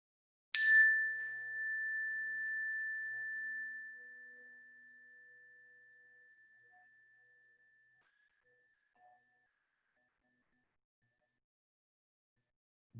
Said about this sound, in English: focus on the sound of the chime